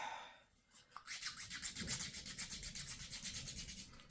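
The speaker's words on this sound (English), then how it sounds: "A lot of sanding to do." Rhythmic back-and-forth sanding strokes on a resin miniature shaped like a potion bottle, about a dozen even rasping passes, close and fairly loud, with no talking.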